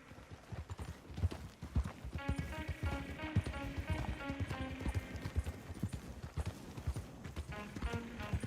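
Steady clip-clop of horse hooves at a riding pace in the Red Dead Redemption 2 video game, continuous and fairly close, with a sustained melodic music score playing alongside.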